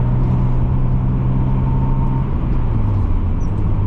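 A 1989 Mazda Miata cruising, its engine giving off a steady low drone with road rumble that holds evenly throughout, close and fairly loud with no talking.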